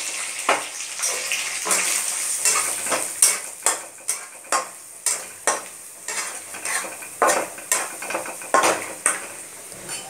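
Cumin, curry leaves and a ground masala filling fry in a pan for a cluster bean dish. Rhythmic spatula strokes scrape and clink about twice a second over a constant sizzle.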